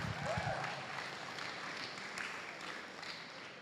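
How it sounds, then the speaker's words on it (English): A crowd applauds, a steady wash of clapping that holds for several seconds at even strength, with a few voices mixed in. "a big round of applause for our two finalists."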